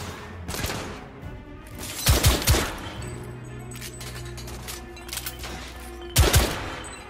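A shoot-out in The Order: 1886, with several loud bursts of gunfire and booming impacts spaced out over a low rumbling background, each volley close and punchy.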